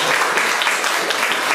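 Brief, dense applause from an audience at a poetry and culture forum in Vilnius, loud and continuous over the short stretch with no pauses.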